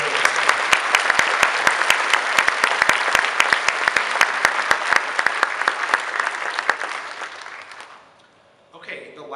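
Audience applause after a symphonic band pops concert piece, a dense sustained patter of many hands clapping close by that fades out near the end, leaving a brief quiet gap.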